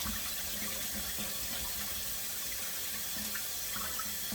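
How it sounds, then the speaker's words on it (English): A kitchen faucet runs steadily into a sink as pork neck bones are rinsed under the stream, a close, continuous splashing wash with no talking. "what I'm doing over here is I'm rinsing these neck bones extremely good."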